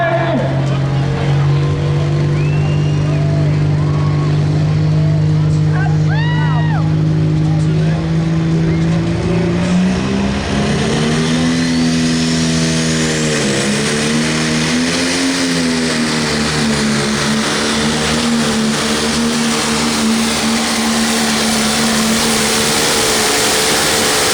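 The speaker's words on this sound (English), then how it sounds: "Pro Stock Tractors coming your way" Pro Stock pulling tractor engines roar loudly and continuously at a 10,000 lb tractor pull in Monticello, Iowa, their pitch shifting as they rev and strain, with a crowd or announcer voice faintly present underneath.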